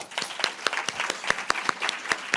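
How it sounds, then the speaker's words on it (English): An audience gives a round of applause to welcome a president at a formal program, a dense steady patter of many hands clapping together at close range for a couple of seconds. "I would like to welcome our president, Dr. Monica Chahal, with a round of applause."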